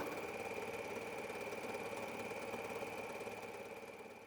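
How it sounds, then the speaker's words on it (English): A sewing machine runs a straight seam through slippery chiffon with a steady, unbroken motor whir for about four seconds, easing off slightly at the end. "So now I can just sew this seam and then zigzag the edge."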